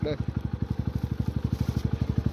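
A motorcycle engine runs nearby with a fast, regular thumping beat, loud and steady throughout.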